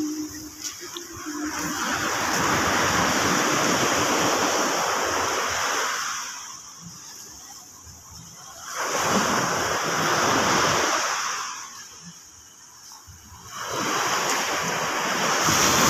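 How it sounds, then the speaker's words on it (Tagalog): Ocean waves surge and break in long swells, each roar fading to a quieter lull before the next, with wind buffeting the microphone. "medyo magandang dagat ngayon idol Maria"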